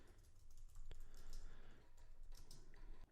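Quiet keystrokes clatter on a computer keyboard in a short, irregular burst of clicks and taps, close but faint, with no speech.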